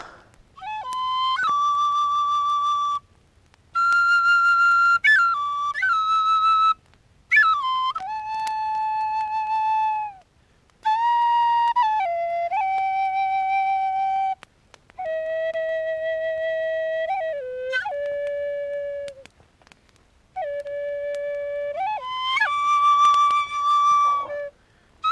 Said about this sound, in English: Alright, guys, I'm gonna play Tin Whistle.